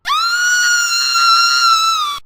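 A woman lets out a single loud, sustained shriek on hearing that a cat may be dead, a high piercing tone held for about two seconds with no other sound.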